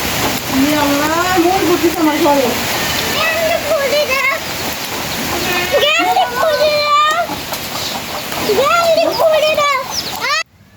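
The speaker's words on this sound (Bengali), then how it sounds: "ওই তো পুকুরের মধ্যে বৃষ্টি পড়তেছে" Steady rain pattering and splashing onto a pond, a constant wash of noise with a voice talking over it throughout.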